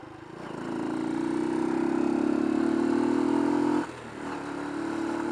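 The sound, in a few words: motorcycle engine running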